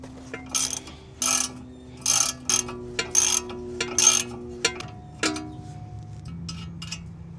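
A ratchet wrench with a 19 mm socket works loose a car tie rod castle nut, giving a series of short, close metallic clicking bursts in an uneven rhythm, with steady low tones underneath.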